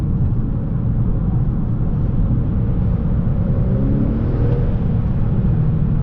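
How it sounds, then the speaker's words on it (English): A stock-exhaust Honda Accord 2.0T Sport accelerates on the road, a steady loud low engine drone with road rumble heard from inside the cabin, no voices. "that's pretty much the loudness you get out of the car off stock"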